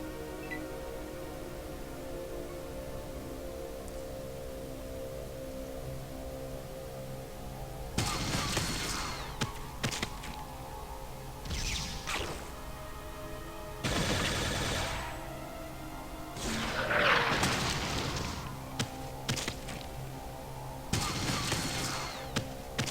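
Gunfire in Fallout game combat against an Assault Paladin: several loud bursts of rapid shots and thuds in clusters, separated by stretches of low game ambience, with no talking.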